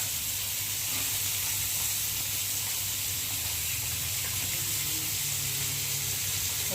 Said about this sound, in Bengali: মাছগুলো আমার হয়ে গেছে আর আমি উল্টেও দিয়েছিলাম তো দেখো এখন আমি মাছগুলোকে তুলে নেবো ভালোই ভাজা হয়েছে